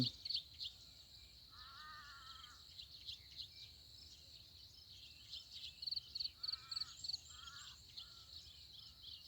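Faint crows caw in a few scattered bursts, distant, over a steady high insect chorus in the morning air.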